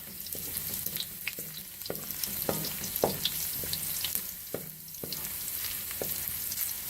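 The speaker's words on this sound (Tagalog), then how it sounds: "Haluin hanggang mag-brown ang bawang" Garlic for pancit fries in a pan, giving a continuous hiss and crackle while a utensil stirs it with a string of quick, irregular taps and scrapes against the pan.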